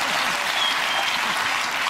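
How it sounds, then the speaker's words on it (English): A studio audience at a televised comedy panel show bursts into dense, steady applause, a loud wash of clapping that fills the short moment without a break. "I don't think we should applaud that sort of thing."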